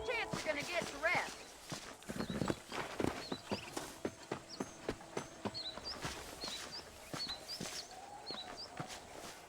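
Horse hooves clip-clop at a steady walking rhythm in Red Dead Redemption, with birds chirping in the background and voices speaking over the hoofbeats.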